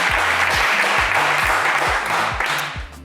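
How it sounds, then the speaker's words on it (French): Loud studio audience applause on a French television game show, a thick, steady roar of clapping with a repeating low thumping pulse underneath that fades slightly at the end. "Et ça s'applaudit"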